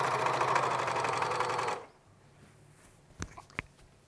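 A sewing machine stitching a mock neck garment, a rapid, steady mechanical whir for nearly two seconds that stops abruptly, followed by quiet and a couple of soft clicks.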